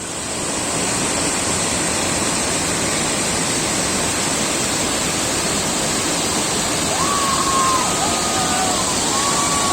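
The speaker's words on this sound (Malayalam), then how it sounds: "ആളിയാർ ഡാമിന് തൊട്ട് താഴെയാണ് ഒരു ചെറിയൊരു വെള്ളച്ചാട്ടം പോലെ ഉണ്ട്" A small waterfall just below Aliyar Dam roars in a steady, dense wash of falling water, loud and continuous, with a faint high whistle briefly rising above it near the end.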